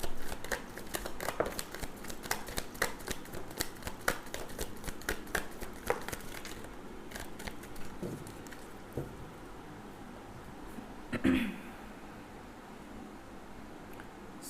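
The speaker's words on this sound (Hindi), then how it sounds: "मैं एक बार ही शफल करती हूँ" Tarot cards are shuffled by hand in a rapid run of crisp riffling and flicking, close and fairly quiet, before it eases into softer handling with one more brief burst near the end.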